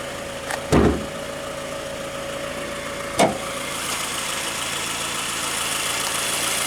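A 2009 Toyota Camry LE with a 2.4-liter dual overhead cam four-cylinder engine idling, giving a steady, even hum, with two sharp clicks or thumps early on.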